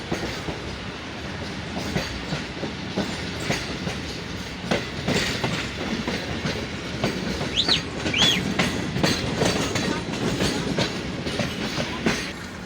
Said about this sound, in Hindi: ट्रेन वापस बैक हो रही है।